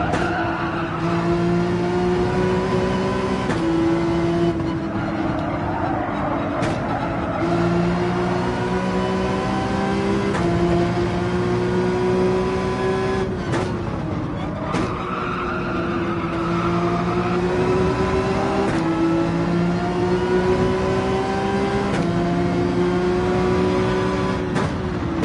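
An extreme high-end luxury sports car in Gran Turismo 7 racing at Tokyo Expressway, its engine droning and shifting pitch through gears while tires squeal and skid repeatedly, loud and continuous with brief sharp interruptions.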